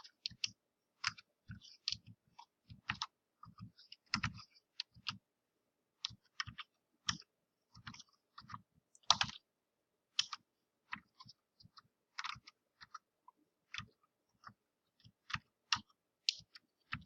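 Plastic keys on a TI-84 graphing calculator click in quick irregular bursts during data entry, close and crisp, with short pauses between runs of presses and no talking.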